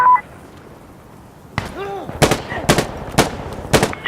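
Gunfire in the video game Insurgency Sandstorm: after a quiet stretch, a series of four or five loud, sharp shots in quick succession, close and alone.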